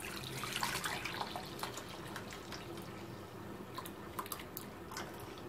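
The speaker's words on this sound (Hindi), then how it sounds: "दूध को इस बाउल में डाल देंगे" Milk pours into a bowl while making rasmalai, a soft continuous liquid trickle and splash close by, quiet and steady with faint clinks.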